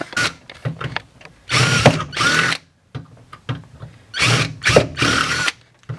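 A power drill with a step drill bit whirs in several short bursts, with quiet handling noises and brief pauses between each run.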